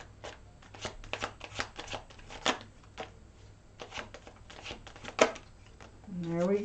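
Tarot cards being shuffled and drawn for a reading, giving a run of quick papery riffles and slaps close by, with a voice briefly entering at the end.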